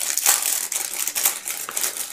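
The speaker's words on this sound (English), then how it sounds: "Let me take it out of the packet" A plastic packet being opened to unwrap a small PIR sensor: close, busy crinkling and rustling that continues throughout with uneven surges.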